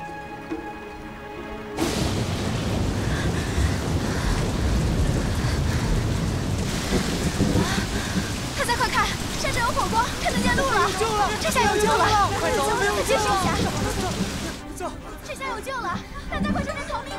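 Heavy rainstorm lashing a muddy, rugged mountain road, a dense steady downpour with possible rumbles of thunder that starts abruptly and stops near the end, with voices talking over it.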